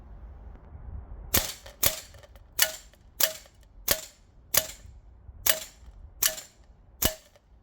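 Nine sharp shots from a VFC HK M110A1 green gas airsoft rifle firing 0.25 gram BBs at 15 meters, spaced at a steady, unhurried rhythm of roughly one every half second to second, crisp and fairly close, with no talking.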